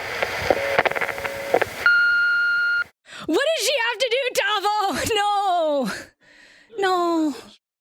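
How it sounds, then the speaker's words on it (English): Electronic beeps sound in short bursts, steady tones that switch pitch, followed by expressive vocal sighs and whimpering sounds in close succession. "Okay, wait, it's still beeping."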